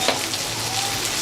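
Puti fish curry with mustard oil being stirred in a pan, giving a steady, close sizzle and fry hiss with no talk.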